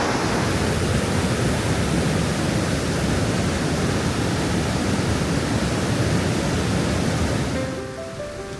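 Glacial meltwater from near Mount Robson in the Canadian Rockies rushes forcefully down a stream, a loud, constant broadband roar close by that eases slightly at the very end.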